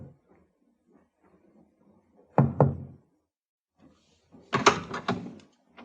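Two quick pairs of discreet knocks on a ship's cabin door, rapping at close range with a quiet pause between them and no voices.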